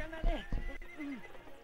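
A horse in a film neighs with a rising-and-falling whinny, close and fairly loud, heard alone over a brief quiet background.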